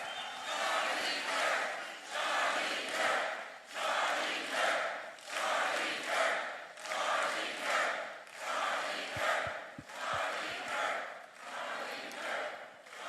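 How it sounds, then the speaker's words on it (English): Audience at a Turning Point campus tour event at UC Berkeley cheering for Charlie Kirk, loud crowd chants rising and falling in regular, repeated bursts, with a few sharp thumps partway through. "I want everyone to raise them up and cheer for Charlie."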